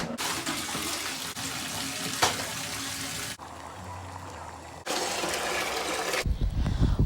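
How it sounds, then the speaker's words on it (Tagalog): Tap water running while a child is bathed at home, a steady splashing flow that pauses and restarts, with a heavier gush near the end. "Human akong pakaon diri ni Kinkin, ako na siyang giligo"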